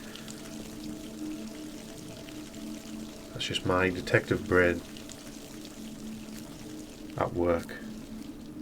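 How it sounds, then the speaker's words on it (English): Hot water runs steadily from a bathroom tap in the VR horror game Dead Secret Circle, a constant close hiss of flow underneath a man's brief spoken remarks. "Oh, if we run the hot water, will we get a message?"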